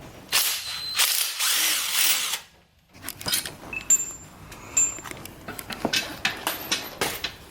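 An impact wrench rattles in short bursts while unscrewing a bolt on a Toyota Tundra truck: a loud hammering whir at first, then a pause, then lighter clicks and clanks of tool handling nearby.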